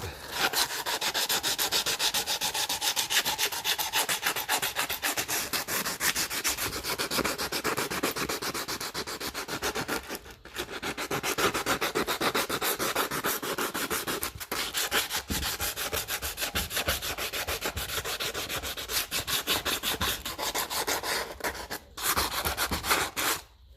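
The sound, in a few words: rubbing a 1955 Lucas Ferguson 20 diesel starter part clean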